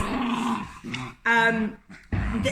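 A dog growls in short, rough bursts separated by brief pauses, close and fairly loud, with one burst rising into a more tonal whine.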